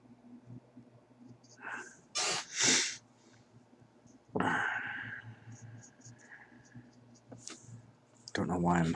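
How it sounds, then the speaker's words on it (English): A person sniffles and snorts while painting Warhammer 40,000 Space Marine miniatures, several short, close nasal sniffs and breaths in irregular bursts over a quiet room, with speech briefly heard near the end. "Don't know why I'm sniffling all of a sudden."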